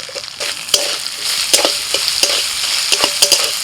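Onion frying in oil with ginger, garlic and green chilli paste added, a constant sizzle broken by frequent sharp scrapes and knocks of a spatula stirring in the pan.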